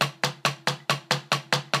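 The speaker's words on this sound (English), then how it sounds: "You want it to sound like a nice even single stroke roll" Drum roll played quietly and evenly, about nine evenly spaced pairs of strokes at a steady pulse, close and alone.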